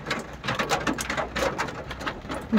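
Heavy rain falls at a Durga temple in Assam, coming in a dense, uneven patter with bursts of louder drops over a continuous wash of noise.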